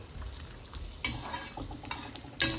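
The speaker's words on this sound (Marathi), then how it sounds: "त्यातच आता आपण काजूचे तुकडे घालतो आहोत" Peanuts and cashew pieces fry in oil for a raw banana chivda, a soft steady sizzle marked by a few louder scraping stirs near the end, close and without speech.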